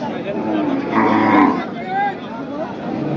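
Cattle moo at a busy rural livestock market, with a loud close low moo followed by a second call, while people talk in the background.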